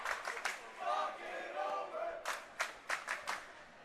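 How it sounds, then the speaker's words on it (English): Girls varsity volleyball crowd swelling in noise at a timeout in a heated rivalry match, a steady roar of cheering with bursts of clapping and shouts toward the end. "Crowd getting loud and proud as timeout called by IC Catholic Prep"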